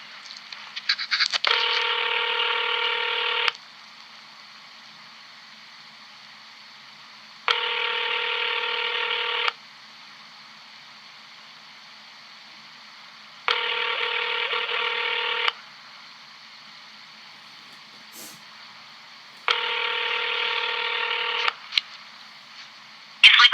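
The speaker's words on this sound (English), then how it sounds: "Let's call here and see if we can get some kind of intelligence on the phone." Telephone tones on a call to a commission line: four steady, loud two-second buzzing tones repeating at regular intervals with quiet gaps between, no voices.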